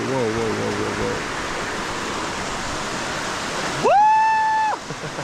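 Rain-season water gushes in a natural outdoor spot, a constant loud rushing hiss like a stream or small falls, and a voice lets out a brief exclamation near the end.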